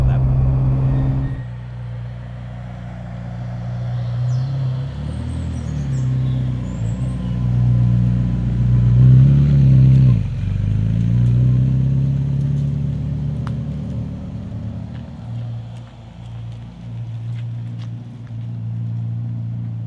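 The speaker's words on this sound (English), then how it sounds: "that's driving a Ferrari F40" Engine of a Ferrari F40 sports car heard from inside while driving, a steady low drone that swells and revs up around the middle, continuous throughout with some talk over it.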